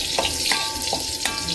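Garlic frying in hot oil for Filipino adobo, a steady close sizzle with a few soft stirring scrapes and no voices.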